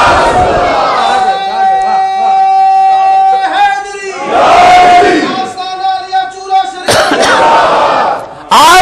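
A large crowd at the 2012 Urs gathering at Chura Shareef shouts religious slogans in loud, unison bursts, with a leader's call answered by massed voices and short pauses between shouts.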